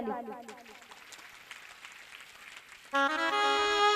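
An audience claps through a Shrimad Bhagavat Katha religious discourse, a steady crowd patter mixed with voices, before harmonium-like devotional music starts loudly near the end.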